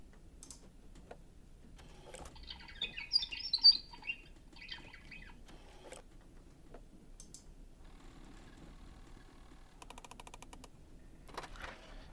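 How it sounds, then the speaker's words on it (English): A bird calls in the Alida video game, a burst of bright chirps over a quiet ambient background, followed later by faint rapid clicking ticks. "So that's what that bird sounds like."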